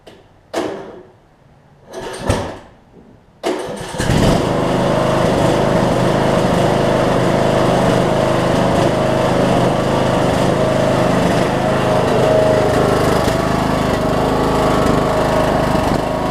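A Briggs and Stratton 18hp Intek engine with a Chinese Nikki carburetor, low side drilled out, sputters through a few short bursts, then catches and runs loud and steady close by, its drone holding with slight wavering.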